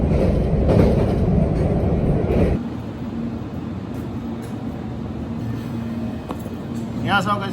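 A train rumbles loudly at first, then settles into a steadier interior hum with faint clicks and a brief voice-like chirp near the end.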